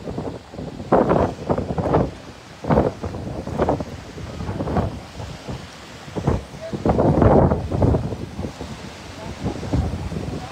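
Strong typhoon wind from Typhoon Tino in Aklan gusts in repeated loud surges against the microphone, with a constant roar between them and voices faintly present underneath.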